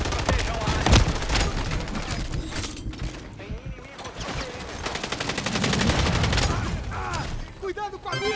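Rapid gunfire bursts crackle and rattle through a video game combat match, loud and dense, with several overlapping volleys and other game sounds, while voices talk over the action.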